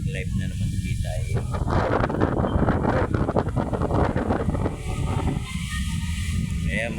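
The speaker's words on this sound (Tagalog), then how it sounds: "Sobrang lakas ng hangin." Strong wind at Manila Bay roars and buffets the microphone in a loud, continuous rush with gusty surges throughout.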